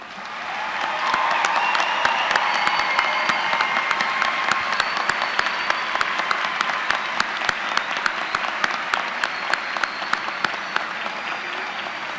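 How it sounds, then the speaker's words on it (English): Sustained applause from a large audience honoring graduates at a university summer commencement, loud and steady for about twelve seconds with dense clapping and a few sharper claps standing out. "if we could have all of today's graduates stand for one last round of applause"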